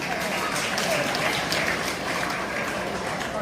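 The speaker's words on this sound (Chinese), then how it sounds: "掌声鼓励。" Crowd applause fills the air at an Amis wedding banquet, a steady dense wash of clapping that holds at an even, fairly loud level throughout with no voices breaking through.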